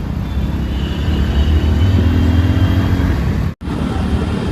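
A motorbike taxi ride on a Rapido bike, with steady, loud engine and road rumble and wind noise throughout, broken by a momentary cutout near the end.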